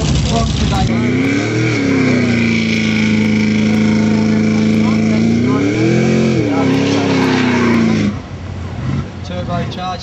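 Drag racing car with nitrous engaged roaring loudly down an airstrip, a sustained high engine drone with rising and falling pitch for about eight seconds before dropping away, under crowd and commentary noise.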